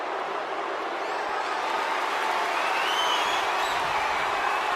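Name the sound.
crowd cheering during a game wrestling match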